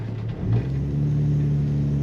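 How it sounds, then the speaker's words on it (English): Low, steady exhaust rumble from a 1963 AMC Rambler Classic 550 two-door sedan, a smooth idle-like drone with a slight swell in the middle, heard alone and fairly close. "Just a little rumble, a very nice slight rumble coming out of the exhaust tip of this car."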